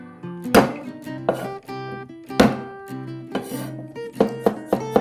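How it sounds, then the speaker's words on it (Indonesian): Five garlic cloves crushed under the flat of a knife on a cutting board while cooking black-pepper beef, a series of sharp close thunks spaced irregularly over a steady background hum. "Lanjut, kita geprek 5 siung bawang putih."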